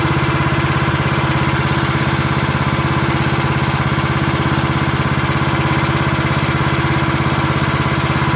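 Range Road Eco Pro 300 wood processor engine idling, a steady, loud mechanical drone with a fast even pulse that runs unchanged throughout, no speech.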